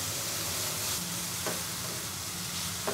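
Minced meat frying in a pan, a dense continuous sizzle that stays loud and even throughout, with a couple of faint scraping stirs.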